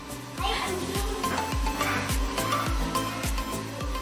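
Eggplant pieces frying and being stirred in a pan, with a rhythmic series of scraping stirs and thumps roughly every half second over a continuous sizzle, close and clear under background music.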